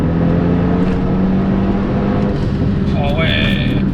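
A Renault Megane 3 RS hatchback accelerates hard with its turbo, giving a loud, steady in-cabin engine drone and road roar, with occupants talking over it and a rising whistle toward the end.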